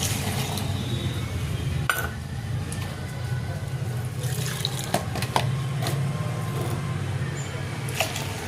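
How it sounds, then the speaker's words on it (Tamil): Water pours steadily into a container while Ariel liquid detergent is being mixed, a continuous splashing stream with occasional glassy clinks and a little background noise. "தண்ணி ஊற்றுறோம், முறை எவ்வளோ வருதுன்னு பார்ப்போம்."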